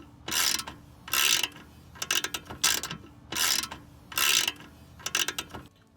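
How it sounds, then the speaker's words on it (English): Screws being backed out of the gas tank door on a Toyota Land Cruiser 80 Series, with repeated close ratcheting clicks in several short bursts and pauses. "Now that we've taken those two screws off"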